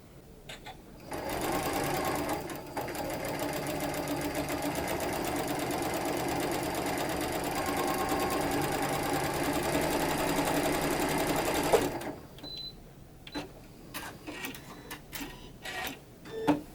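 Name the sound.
sewing machine stitching quilt pieces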